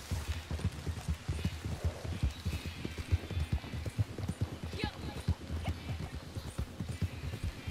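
Horse hooves clip-clop steadily in Red Dead Redemption 2, a quick rhythmic trot of low thuds that continues throughout at moderate volume, with faint voices in the background.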